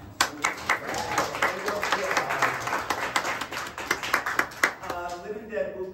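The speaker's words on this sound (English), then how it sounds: "Let's clap now." A theater audience claps at the start of a musical, a dense, steady burst of many hands applauding together for several seconds, fairly close and loud, with no one speaking over it.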